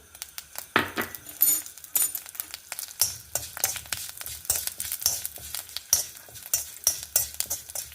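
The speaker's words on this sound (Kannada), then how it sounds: "ಒಂದು ಚಮಚ ಮೆಂತ್ಯ ಹಾಕೊಂಡ್ರೆ ಒಂಚೂರು ಎಣ್ಣೆ ಹಾಕೊತಾ ಇದ್ದೆ" Fenugreek seeds and spices sizzle in hot oil for a hog plum pickle, with a spoon stirring and scraping in repeated clinking strokes against the pan, close and fairly quiet.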